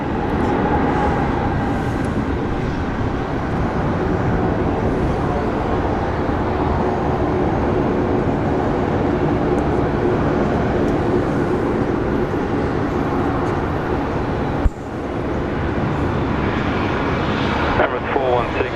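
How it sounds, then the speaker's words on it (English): An Emirates Airbus A380 on a direct flight from Dubai at Sydney Airport, a broad continuous engine rumble heard throughout with a brief knock near the end. "A380, direct flight from Dubai."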